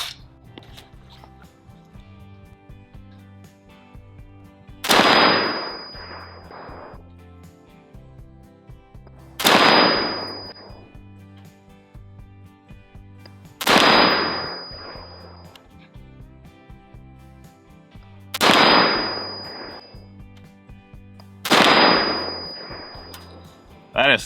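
Five evenly spaced gunshots from a Colt Model 601 clone rifle fired with heavier loads, each a sharp report with a brief ring and decay, a few seconds apart over a low steady background hum.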